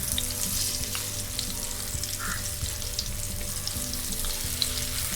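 Marinated mackerel coated in cornflour fries in oil in a pan, a steady, close sizzle with a faint crackle and occasional light pops.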